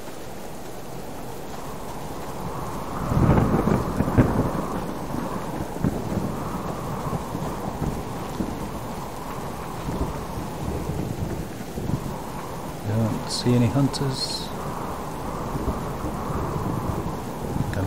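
Thunder rolls and rumbles through a raging storm with steady rain pattering close by, a heavy boom swelling early on before easing into a continuous downpour, with a brief spoken remark partway through.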